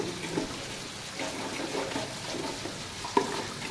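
Onion puree sizzles in hot oil and masala paste for Pune-style misal, a steady close crackle with faint stirring throughout and one sharp clink near the end.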